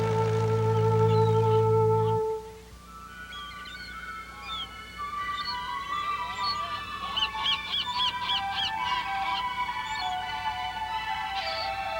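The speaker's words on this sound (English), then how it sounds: "Here on Værø is a huge bird sanctuary where we find millions of seagulls, puffins, and other seabirds nesting in the rocks" A low horn-like hum fades after two seconds into a busy chorus of seagulls, puffins and other seabirds calling at the Værøy rock nesting sanctuary in Norway. The cries overlap in bursts and hold at mid-distance.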